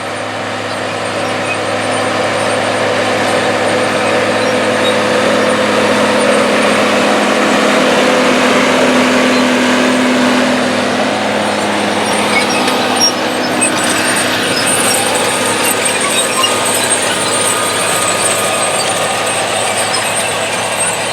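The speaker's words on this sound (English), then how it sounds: "The farm utilizes a John Deere 4840 tractor and a 16-row Max-Emerge planter set on 30-inch rows to plant the crop of organic soybeans." A John Deere 4840 tractor pulling a 16-row Max-Emerge planter across an organic soybean field, its engine a loud, steady drone that holds evenly throughout.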